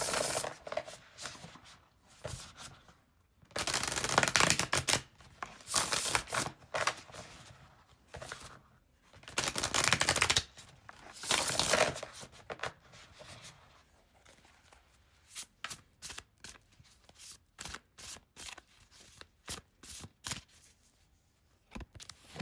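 Tarot cards shuffled in repeated bursts of riffling and rubbing, loud and close, then a run of sharp quick snaps as cards are laid down.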